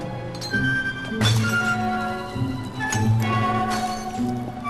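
Glass pop bottles clinking and cracking as they are opened and broken, a few distinct sharp glassy impacts with ringing tones over a steady background.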